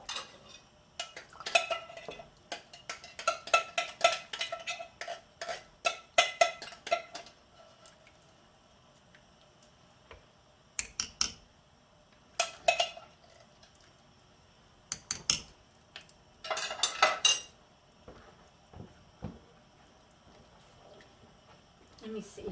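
Brunswick stew with corn stirred in a pot, bursts of metal spoon scraping and clinking against the sides in clustered rhythmic strokes, separated by quieter pauses.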